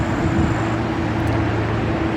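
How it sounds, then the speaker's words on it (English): Steady road traffic noise from Lake Wheeler Road near Yates Mill outside Raleigh, a continuous low rumble of passing vehicles heard from a distance, with no talking. "there's a lot of traffic noise"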